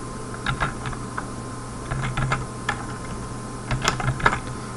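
Printf code in a C program is typed on a computer keyboard as a steady patter of light key clicks in quick irregular clusters over a low constant hum.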